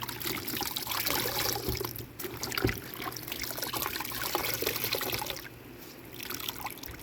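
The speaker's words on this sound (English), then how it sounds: "so what I'm going to do now is just literally rinse this off and see what we have here" Water from a hose rinsing chrome motorcycle exhaust pipes during cleaning, a steady close splashing and trickling wash that runs continuously, dipping briefly near the end, with no talking.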